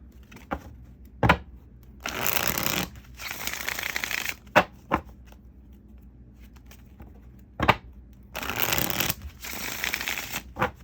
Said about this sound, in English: I'm gonna shuffle these cards up a little bit more